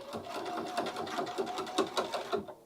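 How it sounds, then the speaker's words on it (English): A sewing machine stitches quickly through several layers of denim while hemming, a steady rapid run of needle strokes that stays close and fairly loud and stops abruptly at the end. "If we could just see how many layers of denim, it's just flying through and sewing like butter"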